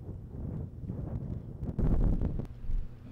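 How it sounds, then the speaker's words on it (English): Strong gusting wind of over 30 mph buffets the microphone on an open disc golf course, a steady low roar that swells into a louder blast midway before easing slightly. "We had about 30 plus mile per hour winds at this point"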